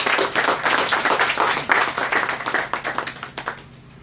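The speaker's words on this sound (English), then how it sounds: "give a big round of applause to Ms. Shinaz Khan" A crowd claps warmly for the youth speaker at an Independent Liberal Party cottage meeting in Chaguanas, the dense applause steady at first, then thinning and tapering into scattered claps near the end.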